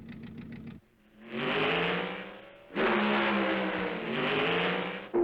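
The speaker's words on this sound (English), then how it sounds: "I had to find out what it was like to start up the fastest car in the world." A GRX-engined race car, the fastest car in the world, starts up and revs in loud, sustained surges after a brief rough burst, with no voices.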